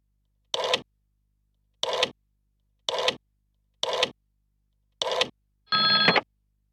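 Six short electronic telephone rings sound one after another at even intervals, each about half a second long and separated by silence, with the last ring slightly longer and more tonal.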